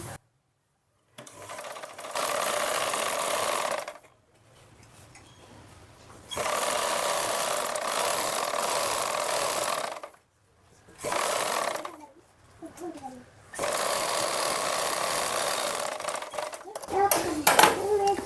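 Sewing machine running in several sustained bursts while stitching around the neckline of a lined blouse, with brief pauses between runs, close and fairly loud.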